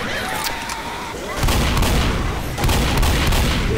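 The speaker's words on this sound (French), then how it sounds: "Une bombe ici." A bomb explodes in Left 4 Dead, two heavy low booms about a second apart, each followed by sustained rumbling and crackle, with gunfire and game noise before them.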